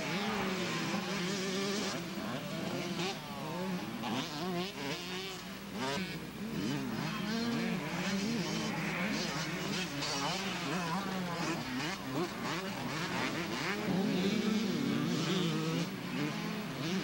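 Motocross motorcycles from a 1991 Dayton club race roar continuously over a series of bumps, the engines revving up and down in a rapid, uneven rhythm, loud and close throughout.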